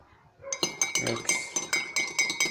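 A spoon clinks repeatedly against a mug while chocolate cake batter is stirred, giving a steady run of bright, close taps about four to five per second.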